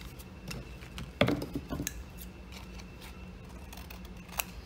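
Scissors snip through coffee-dyed paper scraps in a quiet crafting setting, giving a short cluster of sharp cuts near the start and a single light snip toward the end.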